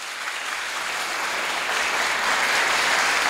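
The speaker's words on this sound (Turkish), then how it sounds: "ikinci hafızımız için de kuvvetli bir alkış istiyorum." An audience at a Quran memorization graduation ceremony in North Holland applauds a hafiz, sustained clapping that swells gradually louder over a few seconds with no talking.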